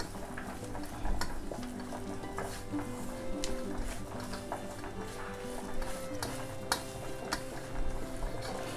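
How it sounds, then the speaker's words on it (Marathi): A tondli (ivy gourd) stuffing mixture is stirred and mixed in a pan, with soft scraping, clinks of a spoon against metal and a faint sizzle underneath, close and steady. "आता मी काय करते हे मिश्रण आहे सगळं एकजीव करून घेते"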